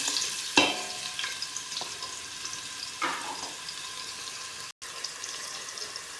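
Ginger and onion drop into hot oil in a pan and fry with a continuous sizzling hiss. A sharp clatter marks the start, followed by a few lighter scrapes and knocks, with no voices.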